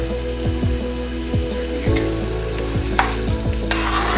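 Gravy for poutine is stirred in a pan as it thickens, with a constant close sizzle and bubbling and repeated short scraping strokes of the spoon.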